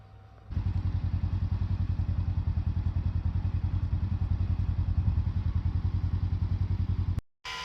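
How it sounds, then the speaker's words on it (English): A small pump running to transfer maple sap, a loud close rapid mechanical chugging with a steady pulse that starts abruptly and cuts out briefly near the end. "But yeah, so I got my little pump running here."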